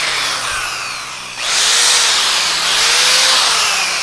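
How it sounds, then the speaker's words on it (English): A power drill revs and bites into an Iconoclast scooter deck, a close, loud motor whine that surges as the bit engages and holds a rough, grinding drone. "for this one, we're gonna be actually drilling"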